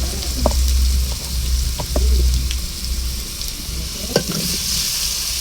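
Ground spice paste with ginger and garlic frying in a pan on a weakly burning stove, a loud, steady sizzle and low rumble with occasional spoon taps nearby, no talk.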